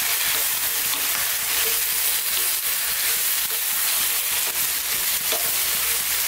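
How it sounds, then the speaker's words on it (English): A spoon breaks up and mixes canned plum tomatoes and chopped tomatoes in a stew pot, a constant loud bubbling sizzle with scattered scraping knocks of the spoon, no voices. "I'm just going to break them with my spoon"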